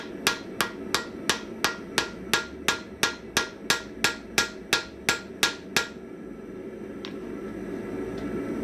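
Steady, evenly spaced hammer blows forging a bearded axe: about eighteen loud, ringing metallic strikes in quick rhythm, then stopping, with a faint lingering hum and a single light tap after.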